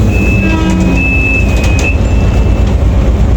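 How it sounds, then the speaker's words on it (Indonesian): Inside a Volvo B11R bus on TransJakarta corridor 11, a loud, steady engine drone fills the cabin with a thin whine on top and no pauses. "Volvo B11R cenderung kalem dia, ciri khasnya"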